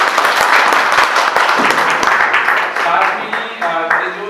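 Audience applause at a farmers' outreach event in Chunar, Mirzapur, a dense continuous patter of clapping from a gathered crowd, fairly loud and steady throughout with no pauses.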